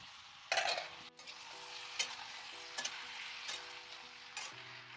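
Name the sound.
tomatoes frying and being stirred in a pan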